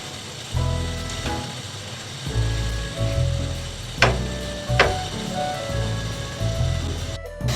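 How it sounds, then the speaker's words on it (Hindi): Sliced onions fry in hot oil for a mutton stew, a continuous soft sizzle with occasional sharper crackles and spatters at close range. "ऑयल गर्म हो गया, हम इसमें प्याज ऐड कर रहे हैं"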